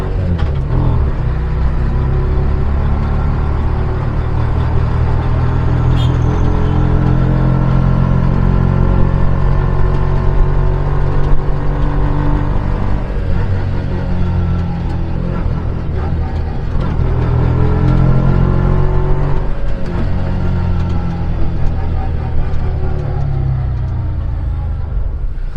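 Inside a Bajaj Maxima C auto rickshaw on the move, the engine drones loudly and continuously with a heavy low rumble and slight shifts in revs, close and filling the cabin throughout.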